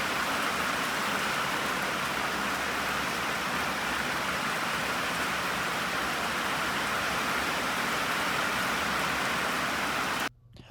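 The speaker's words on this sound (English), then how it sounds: "now it's an absolute monsoon" Heavy monsoon rain pours down on a horse farm in a dense, steady roar that stays loud and unbroken before cutting off abruptly at the end.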